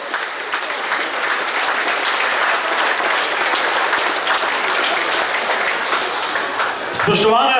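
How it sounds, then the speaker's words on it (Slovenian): Big, steady applause from a crowd honouring firefighters at a volunteer fire brigade's 130th anniversary celebration, dense clapping sustained throughout and swelling slightly at the end. "vsem podpornikom en velik aplavz za gasilke in gasilce, ki so danes prisotni"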